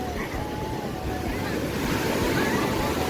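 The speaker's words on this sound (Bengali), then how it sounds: "ঢেউটা মারছে দেখুন" Sea waves break and wash steadily at Digha beach, a loud continuous surf roar mixed with wind buffeting the microphone.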